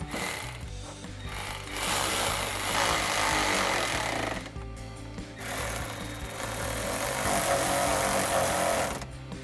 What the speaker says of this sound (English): we can go ahead and tighten those down using a 4mm